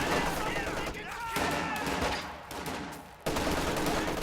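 Machine gun fire in Company of Heroes 2 rattles in sustained bursts with a brief pause, loud and dense, alongside other battlefield gunfire.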